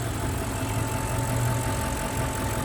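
A stock 2014 Audi RS5 Quattro with its naturally aspirated 4.2-litre V8 idles nearby, a steady low rumbling drone with an even throb and no talking.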